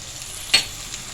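Turmeric and cumin dropped into hot oil, a soft steady sizzle under which one brief sharp hiss or clatter rises midway, close by with no talking.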